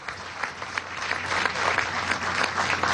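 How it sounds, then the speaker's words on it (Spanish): Audience at a political rally in Yaracuy breaks into applause, a dense, steady wash of clapping hands that swells and holds loud for a few seconds. "Un aplauso a Oraure, a la misión Sonrisa."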